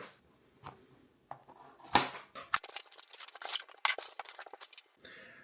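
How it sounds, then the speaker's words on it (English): A silicone protective case for the DJI Osmo Action 6 camera being unboxed, with close, busy rustling, tearing and crinkling of packaging and a few sharp clicks and snaps in quick irregular bursts. "So let's unbox it and wrap it around it and see what it looks like."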